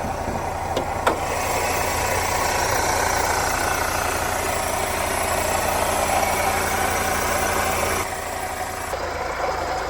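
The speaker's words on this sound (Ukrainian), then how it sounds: "Щось шурхотить незрозуміле." A 2.0 diesel engine in a 2008 Opel Zafira idles steadily with a continuous rattling, scraping noise running through it, loud and close for the whole stretch.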